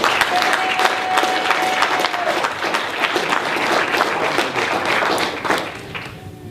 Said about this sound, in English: I want y'all to give a strong round of applause for our brother Watani Taimba